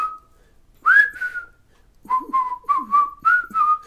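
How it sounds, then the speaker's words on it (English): A person whistles part of "Always Look On The Bright Side of Life" nearby, one long sliding note, a pause, then a run of quick, wavering notes in a steady rhythm. "I'm an awful whistler, but I'm close."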